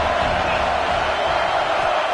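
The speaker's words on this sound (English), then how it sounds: "3rd down, and the crowd really getting into it" A football stadium crowd roars on third down, a dense, sustained wash of cheering and shouting that holds at a steady level throughout.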